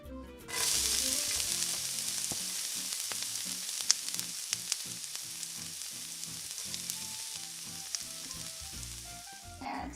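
Potato vada frying in hot oil, a loud, steady close sizzle that starts abruptly and crackles on without a break, with background music underneath.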